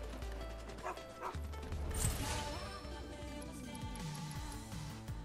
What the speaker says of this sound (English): This dog can just book it